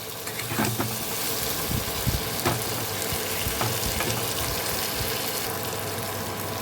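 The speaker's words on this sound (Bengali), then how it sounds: "এই তেলের মধ্যে দু থেকে তিন মিনিট ভালো করে একটু টমেটোটাকে মশলার সাথে ভেজে নেব" Raw tomato frying with spices in oil in a pan, a steady sizzle under repeated stirring scrapes and spoon taps, moderately close and fairly soft, with no one talking.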